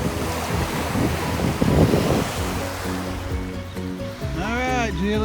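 Ocean surf breaking and washing ashore on Pensacola beach, with a steady wash of waves and wind buffeting the microphone, and people talking nearby.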